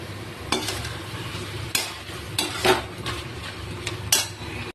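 Egg curry with fried spices is sautéed in a pan, a low steady sizzle broken by repeated sharp clanks and scrapes of a metal spoon against the pan, close and without voices.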